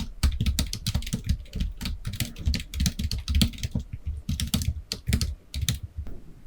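Rapid, continuous keystrokes clatter on a computer keyboard as text is typed, close and crisp with no voices over them.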